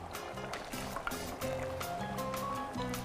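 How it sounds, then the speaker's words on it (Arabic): Water poured into a pot of cooked lentils topped with fried onion, a steady liquid fill and trickle running through the clip with faint clinks, close and moderately loud. "وبرضه هزود شوية مية صغيرة."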